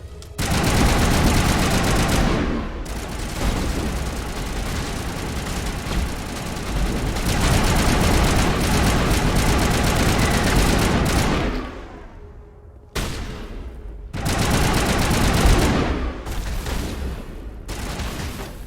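Sustained rapid gunfire in Mass Effect 1, dense loud bursts filling most of the stretch, breaking off briefly twice before resuming, close and heavy.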